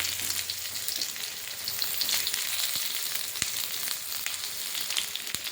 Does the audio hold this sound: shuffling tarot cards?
no